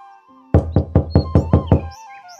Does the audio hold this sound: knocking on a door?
yes